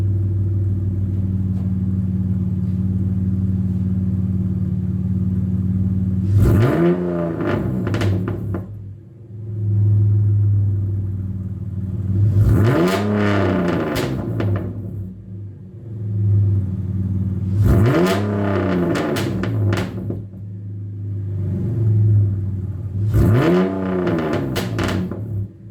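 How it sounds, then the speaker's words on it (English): BMW E46 fitted with a Vibrant resonator exhaust, idling with a low rumble, then four sharp revs spaced a few seconds apart. Each rev climbs and falls back, loud and close, with no talk. "Let's do a couple revs and see what it sounds like."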